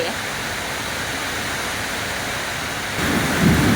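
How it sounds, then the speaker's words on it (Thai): Heavy rain pours in a steady, dense hiss on a rural farm in Thailand, and a deep rumble of thunder swells up near the end. "ฟ้าร้องด้วย ฝนตกแรงด้วยค่ะ"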